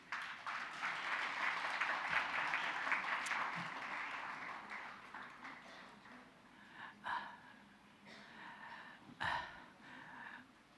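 A conference hall crowd at an Indian philosophy congress inaugural ceremony gives a round of applause that swells early, then thins and fades into scattered noises and a few breaths over the second half.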